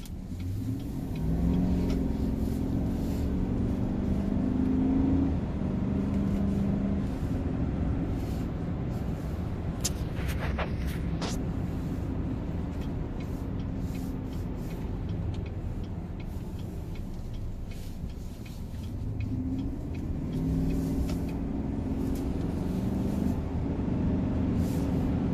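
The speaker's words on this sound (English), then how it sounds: "Now we're going to get up on the highway." A 2019 Chevrolet Silverado LTZ pickup truck pulls onto a highway, its engine droning steadily with rising revs and broad road and wind noise heard from inside the cab, with no one speaking.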